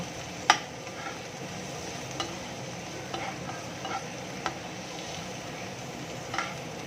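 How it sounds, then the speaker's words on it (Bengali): Chopped onions fry in a pan until reddish, making a soft, steady sizzle with occasional faint clicks of a spoon stirring against the metal. "সেই পেঁয়াজ কুচিটা আমি এখানের মধ্যে দিয়ে দিচ্ছি। পেঁয়াজ কুচিটা যতক্ষণ না পেঁয়াজটা লাল লাল হয়ে যাচ্ছে, ততক্ষণ আমি পেঁয়াজটাকে ভালো করে ভেজে নেব।"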